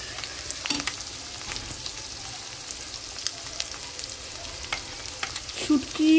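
Dried fish (shutki) frying in a pan, a constant soft crackling sizzle with a few stirring knocks, heard up close with nobody talking.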